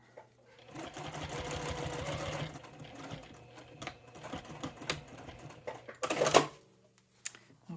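A sewing machine runs a clutch purse seam in a short burst of rapid stitching, then stops, followed by scattered clicks, handling noises and a louder rustle near the end.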